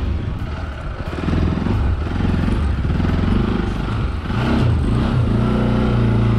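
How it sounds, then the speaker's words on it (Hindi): A KTM Duke motorcycle engine revs loudly and steadily close by, its pitch climbing and dipping as it pulls away on a road near a bridge. "ड्यूक तो निकल गई थोड़ा पावर लगा के"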